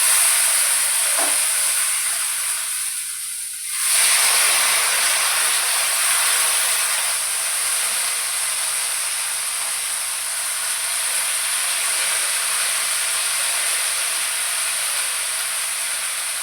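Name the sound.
cluster beans roasting on a hot griddle, steam hissing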